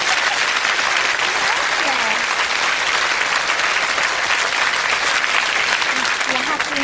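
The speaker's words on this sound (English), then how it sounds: "give him a round of applause" Loud, sustained studio audience applause at a television interview, dense and even throughout, with a few faint voices and cheers mixed in.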